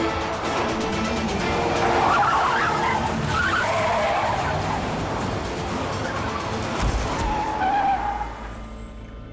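A car speeds along and skids hard to a halt, tyres squealing loudly and close for several seconds before the noise dies away.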